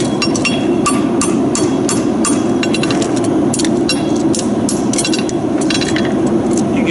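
A farrier's hammer taps a horseshoe on the horn of an anvil during a shoeing demonstration, giving rapid light metallic clinks in uneven clusters, loud and close over a constant roar of background noise.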